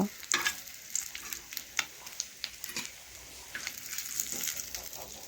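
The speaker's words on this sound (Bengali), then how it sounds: "এই দেখুন বন্ধুরা মাছগুলো ভাজা হয়ে গেছে এখন এক একটি মাছ আমি দেখুন এইভাবে তেল ঝরিয়ে তুলে নেব" Fish fry in oil with a soft continuous sizzle, broken by sharp utensil clinks and taps as the pieces are stirred and lifted, close up and without talk.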